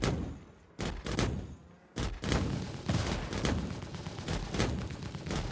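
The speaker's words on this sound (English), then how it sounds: "Oh, he's shooting now." Ballistic cannon fire from ships in a space combat game, a dense run of sharp repeated blasts with two brief pauses before steady firing resumes, loud and close throughout.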